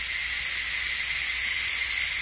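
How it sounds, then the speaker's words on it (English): Steam vents in a steady, loud hiss from the release valve of a Ninja Foodi pressure cooker after cooking pot roast, a continuous bright rush with no pauses and no talking. "I wanted you guys to be able to see the air coming out, all the pressure,"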